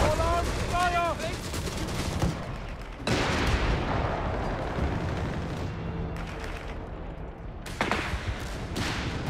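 Massed gunfire from all arms erupts on a World War II battlefield in a real-time strategy game, with dense overlapping rifle and machine-gun bursts and heavy booms, loud and sustained, while voices speak over the din.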